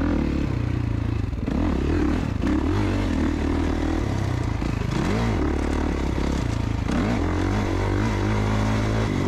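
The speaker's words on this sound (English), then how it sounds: "great times at Moto541, racing my dirt bike" A dirt bike races on a motocross track in a summer series round, its engine loud and close throughout, revving and dropping repeatedly as it accelerates, with clatter from the rough ground.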